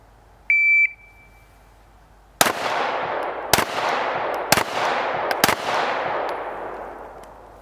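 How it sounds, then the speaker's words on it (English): Four loud, sharp pistol shots during a timed shooting drill on a range, spaced about a second apart, each followed by a long reverberant tail, after a brief electronic start beep from a shot timer. "You're going to fire 4 rounds in 4 seconds."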